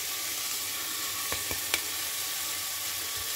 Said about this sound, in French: On ajoute les épices.